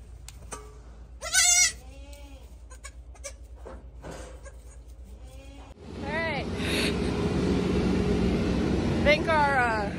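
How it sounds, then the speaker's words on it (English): Baby goats bleating on a farm in December mud season, several loud nearby bleats in bursts, with people talking and a broad rumbling background in the second half. "the goats are arriving"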